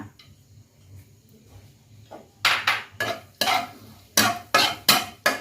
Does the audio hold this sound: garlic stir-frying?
yes